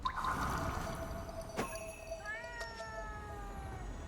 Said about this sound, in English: Yeah, it sounds like a cat.